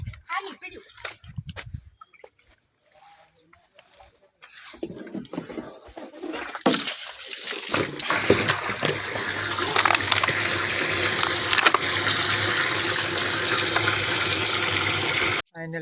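Water gushes steadily from a hose or tap while a car is washed, rising after quiet, intermittent talk into a loud, continuous rush that runs to the end.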